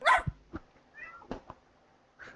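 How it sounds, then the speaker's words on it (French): Small dogs yapping and whining in short bursts, a sharp loud yelp at the start followed by softer, scattered barks. "j'en ai marre des bruits des chiens là"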